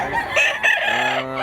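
A rooster at a chicken market in Mantalungon, Cebu, crows once in a loud, close, drawn-out call, with faint clucking from other fowl around it.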